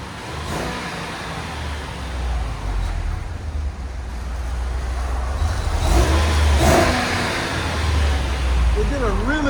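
A 2016 RAM 2500 pickup with a 6.4L HEMI V8 and Flowmaster Outlaw exhaust revs, a loud, continuous low rumble that swells in a few bursts across the clip.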